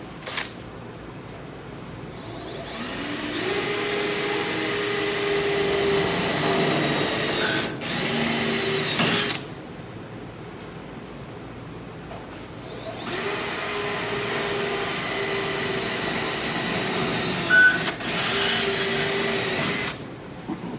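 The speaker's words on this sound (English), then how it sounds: "we'll take a 3/16 drill bit, go ahead and drill our pilot hole." A power drill with a 3/16 bit whines through steel drilling a pilot hole for a race car battery box, two long bursts separated by a pause, high steady motor pitch, close and loud, no talking.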